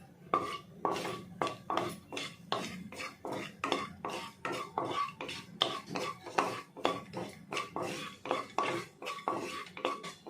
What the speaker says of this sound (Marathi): वेलची लवंग आणि दालचिनीचा तुकडा हे आपण टाकून घेऊया आणि थोडंसं परतवून घ्यायचं आहे